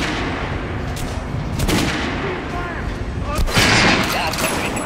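Gunfire in the video game Metro Last Light Redux while shooting armored targets: a few loud, sharp shots stand out from a dense, noisy game soundscape, with a voice faintly present.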